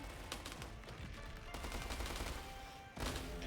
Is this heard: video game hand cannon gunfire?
yes